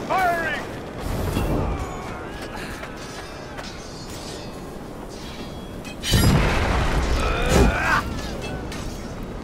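Artillery in the medieval combat game Chivalry 2, two heavy booming impacts several seconds apart amid battle noise, with voices shouting over the fighting.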